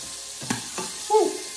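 Squid frying in hot oil in a pan gives a short burst of sizzle and spitting with a couple of sharp crackles, close and fairly quiet.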